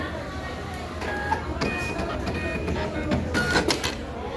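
A sewing machine runs while sewing a double pattern, making rhythmic mechanical whirring and clattering in uneven bursts, with talk in the background.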